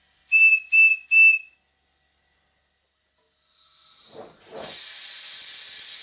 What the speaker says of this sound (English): Out of curiosity, I'm feeding this locomotive with only about 30 pounds per square inch,